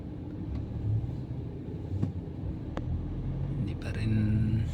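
City road traffic rumbles steadily in a congested street, a close low engine drone with passing vehicles and a brief horn-like tone near the end, while a person talks over it.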